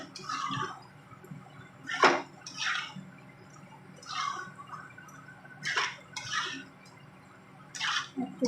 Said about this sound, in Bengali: জলটা অ্যাড করে দিচ্ছি অল্প করে।